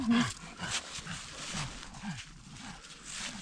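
Dogs running loose through a snowy forest on Christmas Day, several short yips and whining barks scattered over rustling movement, fairly close, with no talk.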